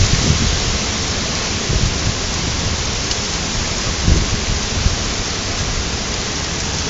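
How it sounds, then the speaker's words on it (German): A severe thunderstorm in Düsseldorf/Mettmann brings a dense, constant roar of heavy rain, with low thunder rumbles and a few louder gusts or thumps. "Das ist ja ein richtiges Unwetter."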